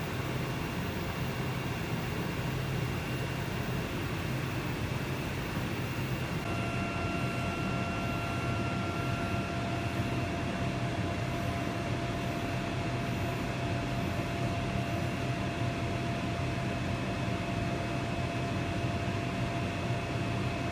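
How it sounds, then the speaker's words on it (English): A laser cutting machine works through an array of 24 parts, guided by machine vision: a steady, even hum and hiss of machinery with thin tones that hold on, running without a break and with no speech. "the machine vision is picking up each part and then cutting each individual piece on the array of 24 parts"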